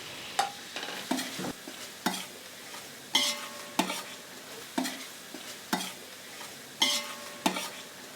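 Ginger garlic paste fries in biryani masala under a soft, steady sizzle, while a spoon scrapes the pan in regular strokes roughly once per second, close by.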